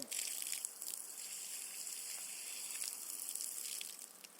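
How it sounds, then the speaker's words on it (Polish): Water is poured out steadily in a continuous, faint splashing trickle with a light hiss, close by and uninterrupted, beside a homemade pneumatic well-digging setup. "Wyleję wodę, żeby nie mieszać tego"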